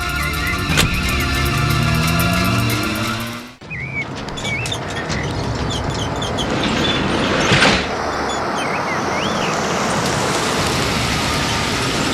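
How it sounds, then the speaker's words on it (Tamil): A car is started and pulls away, its engine and road noise forming a steady wash; a sharp door-like thud about a third of the way in briefly cuts the sound before the vehicle keeps running, with no talk. "டிரைவர் வண்டி எடு."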